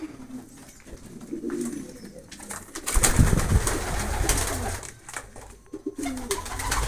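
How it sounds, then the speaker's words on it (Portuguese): White pigeons kept at home cooing softly in soft low murmurs, with a louder, fuller stretch of cooing and rustling near the middle, nearby and without speech. "22 pombos brancos."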